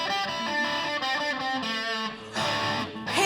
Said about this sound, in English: No, it's an electric guitar.